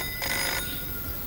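A telephone bell rings in a short electronic burst lasting under half a second, fairly clear over a steady hum, with no voices.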